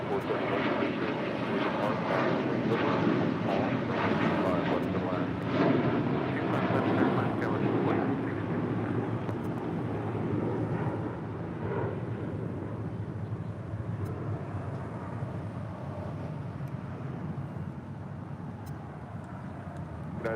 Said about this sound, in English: That was American Airlines flight 1146 heading to Charlotte in an A321